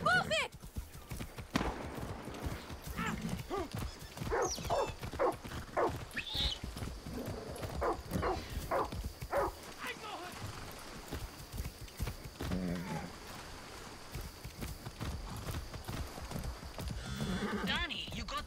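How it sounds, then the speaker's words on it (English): Horse hooves clip-clop in a steady rhythm in Far Cry 6 under ongoing talk and background game sounds, with a faint snort or whinny mixed in. "There's a horse ready for me to"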